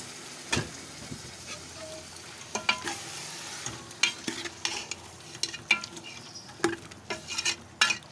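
Beef frying in a pot with prepared masala: a steady low sizzle under frequent spatula clanks and scrapes against the pot as the meat is stirred.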